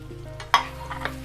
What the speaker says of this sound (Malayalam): അത് ജസ്റ്റ് ഒന്ന് സോട്ട് ചെയ്തെടുക്കാം.